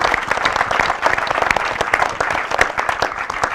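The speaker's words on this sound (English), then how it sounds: "So a round of applause." Loud, close, dense applause from an audience at a Nutrition for Growth event, with rapid overlapping claps filling the room steadily for several seconds.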